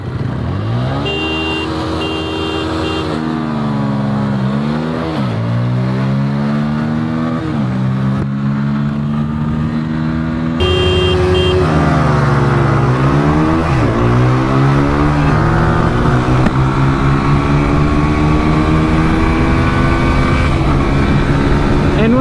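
Two 2026 motorcycles, a Bajaj Pulsar N160 and a TVS Apache 160 4V, drag race side by side. Loud, close engines rev and accelerate in repeated rising sweeps, climbing through the gears with sustained roaring pulls.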